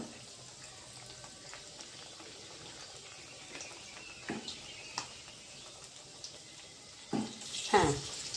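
Food frying in a pan in a home kitchen gives a faint, steady sizzle, broken by a few soft clinks and a louder clatter of utensils near the end.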